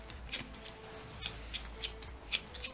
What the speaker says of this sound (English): I'll shuffle these